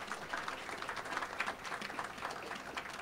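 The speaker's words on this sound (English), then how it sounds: "I think that deserves a round of applause" A crowd applauds at the outdoor dedication ceremony for the America's Response Statue in New York City, a soft, steady patter of many hands, fairly distant and faint, continuing evenly throughout.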